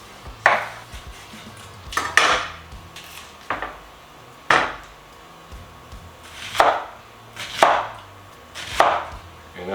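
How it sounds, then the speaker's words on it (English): Two whole onions are sliced into thin rings on a board with a kitchen knife, giving close, sharp chopping knocks in an uneven rhythm of roughly eight strikes spread over several seconds, with no talking. "And I'm just going to cut them into thin rings."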